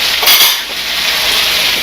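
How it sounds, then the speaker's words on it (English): Chopped onions sweating in a hot pan, a steady, bright hiss of frying, loud and close, with a brief metallic clink of a utensil near the start and no talking. "So we're going to put some onions in here. We're going to start sweating them out."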